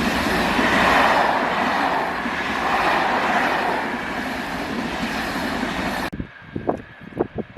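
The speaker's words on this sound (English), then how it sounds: "I think that's the stock to form tonight's overnight train to Paris." A train rumbles past close by on a line in the Pyrénées-Orientales, southern France, with a steady, broad roar for about six seconds, then cuts off abruptly, leaving a few scattered knocks and clunks.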